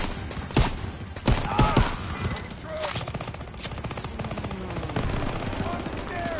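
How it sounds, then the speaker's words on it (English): Machine gun fire in Call of Duty WWII bursts out in rapid, repeated volleys with sharp individual shots among them, loud and close, while voices shout in the background. "Motherfucker with that machine gun, kill him!"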